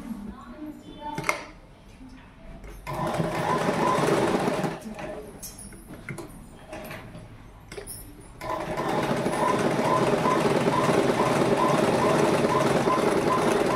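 A sewing machine stitching the waistband of a uniform nicker runs in bursts, a fast rhythmic mechanical whirr starting and stopping, then a long continuous run near the end, with brief handling clatter between runs.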